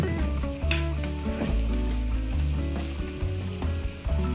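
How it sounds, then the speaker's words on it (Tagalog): Chicken feet sauté in a pan for adobo, with a continuous loud sizzle and occasional stirring scrapes over background music. "Isutayin natin for a while ang ating chicken feet"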